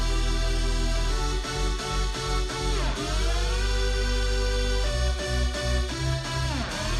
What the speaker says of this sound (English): like super saws, and each super saw plays its own harmony